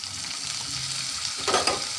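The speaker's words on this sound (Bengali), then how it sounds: "এখন আমি চাউল ভাজা আর ছোলাটাকে একটু তেলানি করে নেব। এই যে দিয়ে দিলাম পেঁয়াজ কুচি, কাঁচামরিচ কুচি, আর একটু আদা কুচি।" Chopped onion, green chilli and ginger sizzle in hot oil with fried rice and chickpeas, a steady crackling hiss with a brief louder burst of stirring near the end and no voices.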